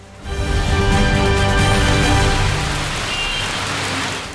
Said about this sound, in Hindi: ऋषिकेश में पिछले 48 घंटे से हो रही बारिश से जहां जनजीवन अस्त व्यस्त हो गया है